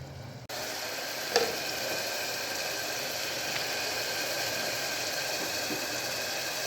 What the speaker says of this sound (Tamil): தக்காளி சேர்த்து நல்லா வதங்கிட்டு இருக்கு